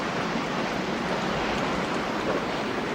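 Heavy rain pours down during a storm at sea onto an anchored ship, making a dense, steady hiss that stays loud and even throughout with no voices.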